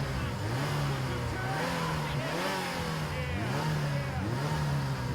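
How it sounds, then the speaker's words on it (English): A car engine idles with a steady low drone and rises in a few revving swells, running continuously and fairly close throughout. "Would you turn off the engine?"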